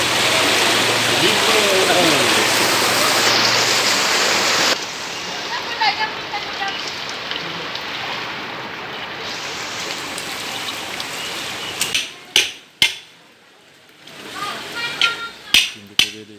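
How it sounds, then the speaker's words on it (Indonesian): Heavy rain pours down steadily over flood water in Pagar Alam, a dense loud hiss at first, then lighter rain sounds broken by sharp close knocks and handling noises toward the end. "Hujan deras."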